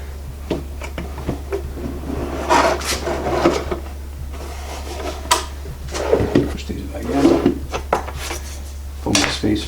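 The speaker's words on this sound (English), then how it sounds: "what I usually do is just take the drawer out again" A drawer is pulled out of a Milwaukee jobsite drawer organizer cabinet, giving scattered wooden rubbing and clattering knocks against a steady low hum while a person talks.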